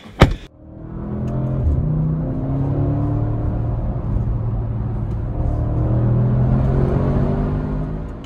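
An Audi RS6 C8 estate starting off after a door thud, its engine a deep, steady rumble that rises gently through the gears as the car drives, heard from inside the cabin.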